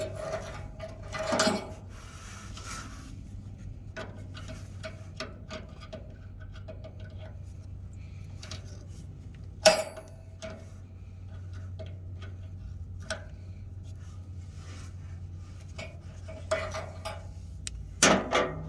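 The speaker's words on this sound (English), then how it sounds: "So we're gonna start by removing the hose. Just remove the two clamps." Hose clamps being removed on a Freightliner Cascadia truck, sparse metallic ticks, clicks and light taps scattered over a low steady hum, with a few sharper clanks, no talk.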